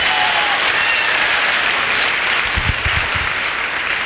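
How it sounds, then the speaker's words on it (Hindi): An audience at a motivational business event claps loudly and steadily for a few seconds as dense, continuous applause with no talk over it. "दोस्तों, इस बिजनेस के लिए जोरदार ताली बजवाना चाहता हूं।"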